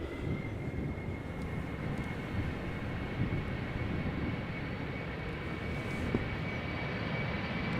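Aircraft engines roar steadily at Amsterdam Schiphol as a plane departs, a continuous broad rumble with a faint high whine held throughout.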